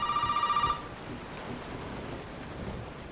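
A telephone rings in the Resident Evil 7 video game. A bright, steady electronic trill sounds for under a second, cut off abruptly, then a low rumbling ambience of rain and storm continues alone.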